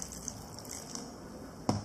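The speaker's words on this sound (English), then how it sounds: "I'm going to add a little bit more water to it." Water poured into dry ramen noodle dough in a bowl, a faint trickle and drip that ends in one brief, louder splash.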